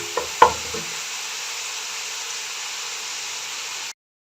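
Onions fry in a pan while being cooked toward light golden brown for an egg dish, giving a steady, even sizzle with a couple of sharp stirring clinks at the start before the sound cuts off.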